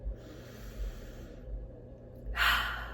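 A single deep inhalation, close and breathy, builds over a couple of seconds and ends in a louder rush of air near the end.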